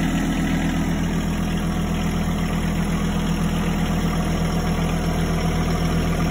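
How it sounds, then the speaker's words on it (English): A tractor engine idles steadily with a low, even mechanical drone and vibration while its front loader bucket is raised, continuous and close throughout with no talk. "To lift up the bucket, we pull back."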